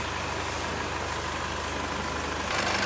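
A steady low engine drone runs throughout, loud and unbroken, from the 3.0 litre diesel engine of a 2020 Isuzu MU-X idling close by, with no voices.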